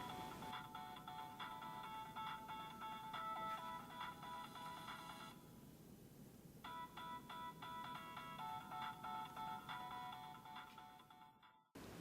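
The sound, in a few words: phone ringing inside a partly evacuated bell jar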